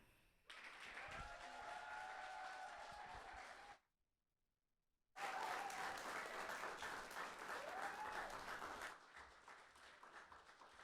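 An audience gives strong applause after a poem reading, two loud sustained rounds of clapping with a few cheers, split by a brief silent gap.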